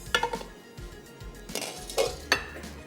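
A metal cooking pan is picked up and set down in a kitchen, giving a few sharp clanks and clinks at irregular intervals, close and fairly quiet.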